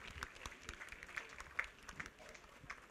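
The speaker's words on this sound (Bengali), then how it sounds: "একবার জোরে হাততালি হোক, জোরে হাততালি" Audience applause at an award ceremony as a police officer receives a prize, a faint, thin patter of clapping with scattered sharper claps, somewhat distant and low in level throughout.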